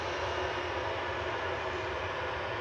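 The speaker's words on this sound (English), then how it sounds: "Ryanair departing to Fuerteventura with flight 3805" A Ryanair jet departing Manchester Airport for Fuerteventura roars in a steady, broad engine rumble, loud and constant for a few seconds with no voices.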